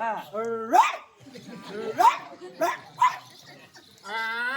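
An actor in a stage drama imitates a dog barking with his voice, giving several yelping woofs in a row with short pauses between them.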